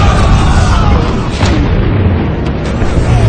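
Small cannons fire during a siege, heavy booming blasts that roll loud and close, layered with dense rumbling battle noise throughout.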